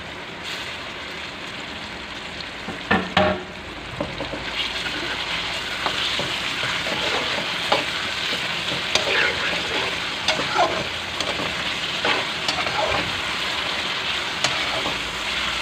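Chicken stir-fries in a hot pan for chowmein, giving a loud, continuous sizzle with scattered scraping and stirring knocks, close up and without speech.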